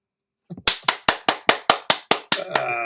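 A short applause sound effect plays on a forex trading livestream: about nine crisp, evenly spaced claps, close and clear, with a brief soft sound before and a held tone at the end.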